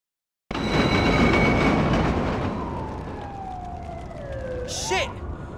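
A subway train in the video game The Warriors roars loudly along the tracks, a sustained rumble with a slowly falling whine and a brief sharp screech near the end.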